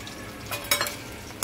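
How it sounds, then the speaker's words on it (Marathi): Chopped potato hits a hot pan for sabudana khichdi and starts frying, a brief soft sizzle with a couple of quick clattering bursts. "चॉप्ड पोटॅटो टाकत आहे।"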